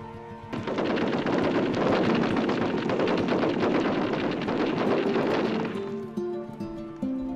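Sustained machine gun fire from soldiers in an old archival scene of the Australian Emu War, a dense continuous burst of rapid shots lasting several seconds before cutting off, loud and close with no talk.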